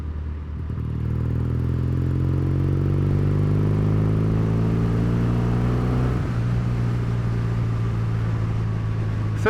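A Triumph Bonneville T140V with new slip-on exhausts idles, then revs up in a rising, throbbing drone. After about six seconds it drops back to a loud, steady rumble close by.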